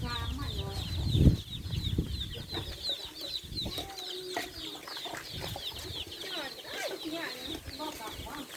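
Black chickens cluck and squawk repeatedly in a rural outdoor setting, with a brief louder burst early on, while people talk faintly in the background.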